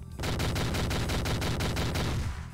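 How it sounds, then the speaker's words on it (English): Rapid automatic shotgun blasts from a Doom mod, a fast even string of about a dozen loud, close shots fired without pause. "I made one that's kind of in between the normal shotgun and the super shotgun in power, while having a much higher fire rate."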